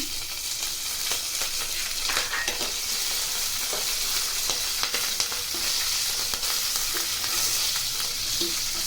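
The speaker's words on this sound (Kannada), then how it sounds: "ಇದು ಫ್ರೈ ಆಗ್ತಾ ಇದೆ." Green chillies and curry leaves frying in oil in a pan for a chickpea usli snack, a steady loud hiss and crackle throughout with scattered small pops and no talk.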